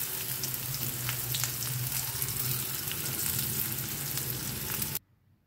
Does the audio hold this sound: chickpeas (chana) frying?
yes